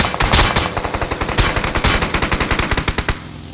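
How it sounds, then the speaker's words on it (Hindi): Rapid bursts of automatic gunfire in the video game BGMI (PUBG), loud and close, firing in a steady rattling rhythm for a few seconds before cutting off. "भैया बीच रास्ते में फायरिंग पड़ती है"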